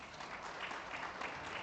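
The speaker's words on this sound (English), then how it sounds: "A hand clap to yourselves." Quiet, distant applause from a conference audience at a digital inclusion panel, a steady wash of hand clapping with no voices on top.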